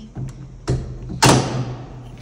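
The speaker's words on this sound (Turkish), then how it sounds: "Kapıyı kapatalım." A door at home swings shut on a snowy day, giving a few dull thumps and knocks that end in one louder, close bang.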